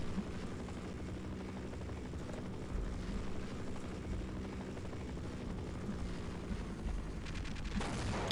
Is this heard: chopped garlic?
no